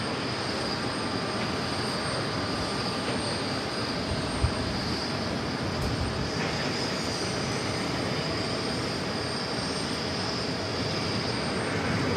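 An airliner takes off on runway 4 left at JFK, its jet roar a steady, dense rumble from start to finish with no voices.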